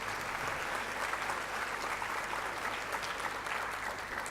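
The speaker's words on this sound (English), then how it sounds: "Please, could you give an applause?" Audience at an international convention for English teachers applauding, a dense, steady wash of many hands clapping at even loudness throughout, with no break.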